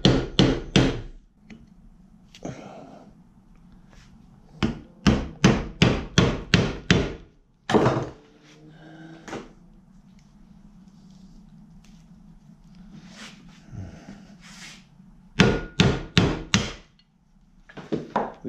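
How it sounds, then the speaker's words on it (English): An old wood chisel is struck with a hammer to cut out wood: quick bursts of sharp, loud blows in clusters of four to six, separated by quieter stretches with a low background hum. "Right there, see if we can just chisel it out."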